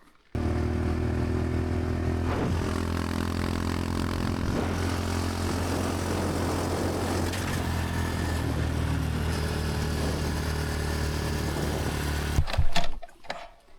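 A motorcycle rides uphill toward snowy high ground, its engine a steady, loud droning hum with rumbling low tones held for about twelve seconds before a brief burst of buffeting noise.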